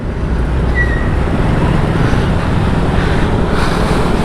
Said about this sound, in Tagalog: Grabe traffic dito.